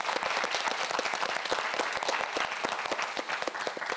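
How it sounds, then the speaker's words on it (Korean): Studio audience applause on a Korean TV quiz show for a student contestant, a dense burst of many hands clapping with sharp individual claps standing out, steady and fairly close, no talk over it. "큰 박수 부탁드립니다."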